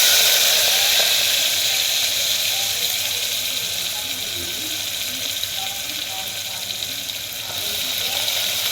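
Onion dropped into hot oil seasoned with asafoetida and cumin, giving a steady broadband sizzle that is loud at first, eases slightly, then swells again, with a voice faintly under it.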